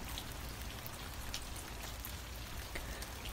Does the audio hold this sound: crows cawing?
no